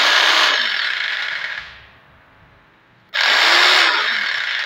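A Bim SGS jigsaw runs loudly with a buzzing whine, winds down and goes quiet for about a second, then starts up again sharply at full speed, close and with no talk.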